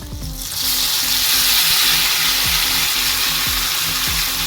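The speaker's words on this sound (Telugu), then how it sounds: "తగినన్ని పచ్చిమిర్చి అలాగే కరివేపాకు వేసుకుంటున్నాను ఇవి ఆల్రెడీ వేగిపోయినాయండి" Green chillies and curry leaves frying in hot oil, a loud, close, continuous sizzle that swells right after they go in, with occasional stirring clinks and no talking.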